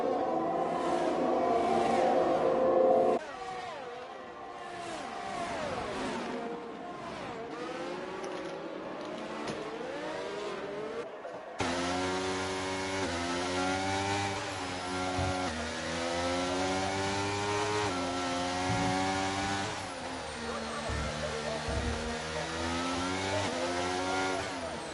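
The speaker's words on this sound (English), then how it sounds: "Good view of all the cars going through the hairpin there." Formula 1 cars in the F1 23 video game howl through the Monaco hairpin, engines revving and downshifting in overlapping waves, loud and close, with one car dropping off before another surges in.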